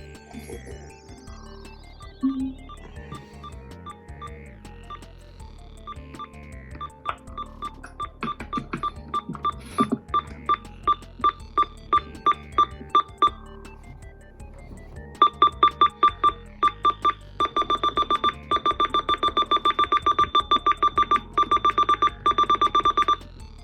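Series of short electronic button beeps from a Uniden Bearcat BC248CLT radio scanner, sparse at first and growing louder and faster, ending in a rapid steady run of high-pitched beeps.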